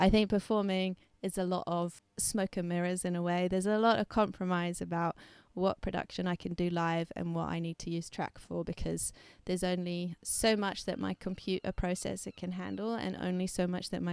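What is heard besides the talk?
No everyday noise stands out behind the speech.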